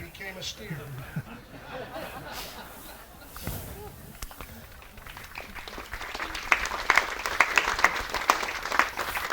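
An audience applauds after a cowboy poetry reading at a Pleasant View heritage night, the clapping swelling from light scattered claps to fuller applause, with chuckles and murmured chatter underneath.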